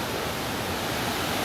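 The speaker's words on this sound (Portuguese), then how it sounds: "é uma trilhinha para você contemplar a cachoeira de pertinho" Waterfall on a camping trail near Santa Rita do Passa Quatro, heard up close as a loud, unbroken wash of rushing water, steady and dense with no voices.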